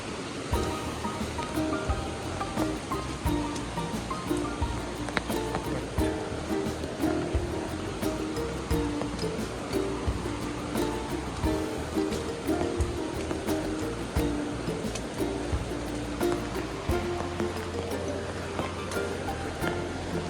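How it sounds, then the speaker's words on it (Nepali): A large river in the hills along the road to Ilam rushes steadily, a continuous broad roar of flowing water heard from nearby. "खोला ठुलै रहेछ"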